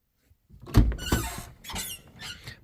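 A Chevy S10 door squeaks as it moves, a few close, scraping squeals and creaks with a thump near the start, heard on their own.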